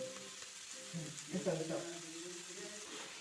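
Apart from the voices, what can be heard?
stirring tomatoes frying in a mushroom curry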